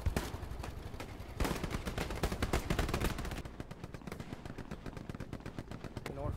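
Machine gun fire in the World War II shooter game Hell Let Loose, coming from a building during house-to-house fighting. Rapid bursts of shots run throughout, loud at the start and thinning into steady distant rattling later, with voices talking over parts of it.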